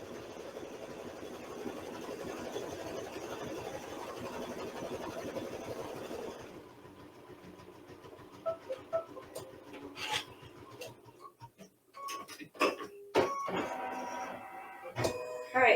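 An embroidery machine runs through a long stitch-out during a mug rug project, giving a steady mechanical whirring and rattling hum, later broken by sharper clicks and thumps as the stitching pattern changes.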